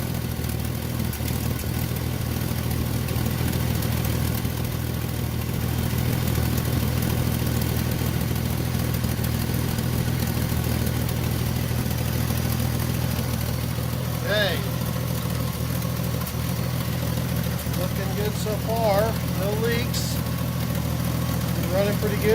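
A Ford Mustang engine idles steadily after a new fuel pump is fitted, a close, even rumble throughout, with brief faint voices and light clatter toward the end.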